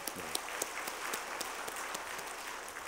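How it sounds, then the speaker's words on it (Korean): A church congregation applauds steadily for a few seconds during a Sunday service, a dense wash of many hands clapping at moderate distance, no voices over it. "우리 수고하시는데 박수로 감사하십시다."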